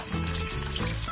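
Onion going into a pan after garlic for a Filipino sauté of Chinese beans with ground meat, sizzling and hissing steadily up close with some watery crackle over a low hum, no voices.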